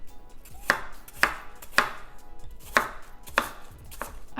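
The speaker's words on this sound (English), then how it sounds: "I like to cut it into pretty tiny pieces so it really cooks up" A knife chops apples into tiny pieces on a cutting board, striking about eight crisp, evenly spaced times with a steady rhythm, close and alone.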